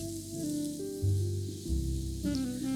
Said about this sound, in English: I saute the onion for a few minutes in some olive oil until it softens up